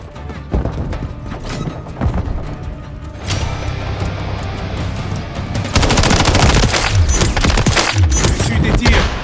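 Call of Duty Modern Warfare 3 firefight, with sustained automatic gunfire bursts and single shots crackling loud and close, building into a dense continuous barrage in the second half.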